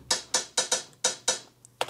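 Old-school 909 drum machine hi-hats with processing play alone in a short loop, crisp bright hits in an uneven rhythm of about seven strikes, each with a quick decay, fairly close and clear.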